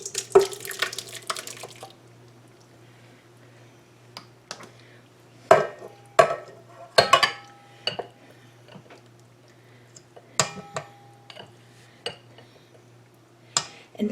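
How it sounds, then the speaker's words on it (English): A cooled sweet-bread mixture is transferred into a mixing bowl, with sparse, irregular clinks and scrapes of utensil against bowl over a quiet kitchen hum and no talking. "So I'm going to start by putting that in my mixing bowl."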